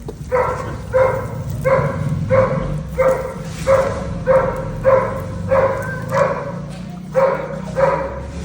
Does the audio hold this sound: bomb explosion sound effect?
no